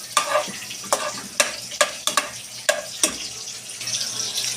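Onion going into a pot for sinigang na bangus, with sharp spoon or spatula scrapes at an irregular rhythm over a steady low sizzle, close and fairly loud, with no talk.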